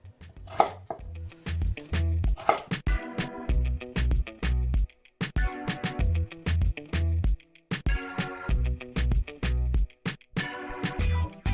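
A knife chops peeled potatoes into cubes on a cutting board for leek and potato soup, making a quick run of sharp, close knocks in short bursts with brief pauses between.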